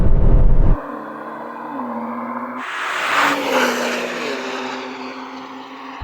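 BMW M2 cars of different generations launching in a drag race: a deep engine roar drops, then surges into a loud, rising acceleration with audible gear-change dips and a sustained high-revving drone.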